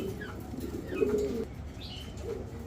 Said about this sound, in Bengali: খুব সুন্দর 2 জোড়া কবুতর